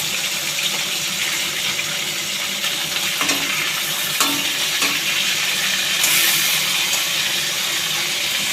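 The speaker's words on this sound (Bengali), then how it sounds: "এবার উল্টে পাল্টে মাছগুলোকে ভেজে নেব ভালো করে।" Pieces of fish fry in hot oil in a pan, a steady close sizzle with occasional clinks and stirring sounds as they are turned, continuous and moderately loud with no speech.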